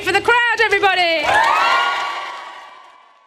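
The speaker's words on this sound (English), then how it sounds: "Let's hear it for the crowd, everybody." A crowd at the launch event for the BBC WM Red Alert charity appeal for Cure Leukemia erupts in loud cheering, whoops and shouts, then settles into a sustained roar that gradually fades away.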